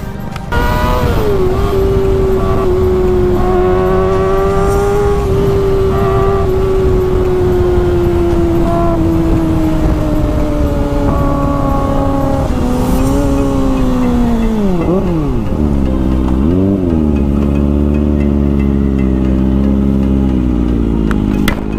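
A Honda Click scooter ridden along a road, its engine droning steadily and loud close-up, then shifting pitch as it slows and revs near the end, with heavy wind noise throughout.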